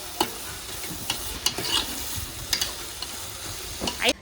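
Onions frying in a pan at home, with a steady low sizzle broken by repeated short scraping and stirring strokes, close and moderately loud.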